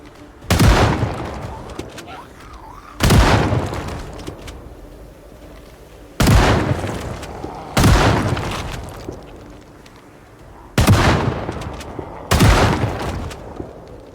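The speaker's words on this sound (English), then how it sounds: "The trick to shooting in Zomboid is don't move while you aim." Six heavy gunshots from Project Zomboid, each a sharp loud crack with a decaying tail, fired singly at uneven gaps of one to three seconds.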